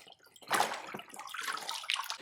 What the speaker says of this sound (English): we're going to quickly submerge the box in the water